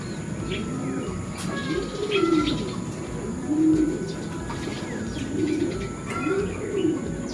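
Racing pigeons coo softly in low, rolling bursts, several calls repeating every second or so over a steady background hiss, with faint chirps mixed in and no voices.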